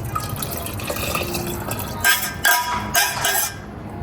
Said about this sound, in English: I'm gonna have to add some water in there